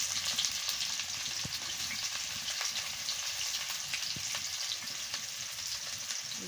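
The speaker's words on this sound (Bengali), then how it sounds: "এবার পেঁয়াজ কুচিটা দিয়ে দিচ্ছি।" Chopped onion sizzles in hot oil with panch phoron and dried red chilli for a Bengali cabbage, eggplant and potato chorchori, giving a close, steady frying hiss with occasional faint stirring scrapes.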